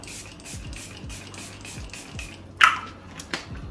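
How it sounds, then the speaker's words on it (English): Makeup fixing spray misted over a powdered face, two short close hissing spritzes after a stretch of soft handling noise, with no talking. "I'm gonna use this fixing spray over my powder."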